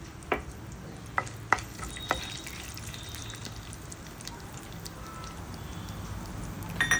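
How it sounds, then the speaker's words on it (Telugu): Chana dal, mustard seeds, cumin and dried red chillies frying in hot oil, a faint continuous sizzle with a few sharp pops and clicks near the start. "నూనె వేడెక్కిన తర్వాత ఇందులో పోపు దినుసులు,"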